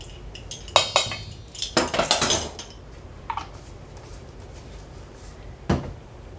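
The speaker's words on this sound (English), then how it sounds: "And then you're going to just stir." Spa salts being stirred with fragrance oil in a bowl, heard as a few separate scraping, clinking strokes and one longer burst of gritty rattling, fairly close and without any talking.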